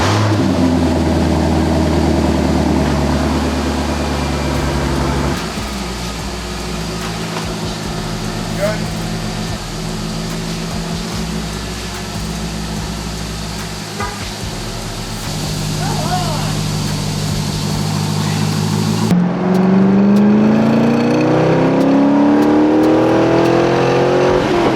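A car engine idles and revs on a test drive, a steady loud drone with rising pitch sweeps near the end as it accelerates, running continuously through the whole stretch.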